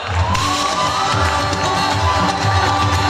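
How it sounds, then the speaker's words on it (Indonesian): Crowd at a Quran-memorization (tahfidz juz 30) graduation ceremony cheering and applauding for a young performer, a dense, steady wash of clapping and shouting voices that fills the room. "Kita beri tepuk tangan yang meriah."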